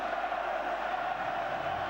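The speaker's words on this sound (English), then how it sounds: "Look at the crowd on their feet." A stadium crowd at the 2001 Lions versus Australia rugby test rises to its feet, a steady roaring wash of cheering voices, dense and unbroken.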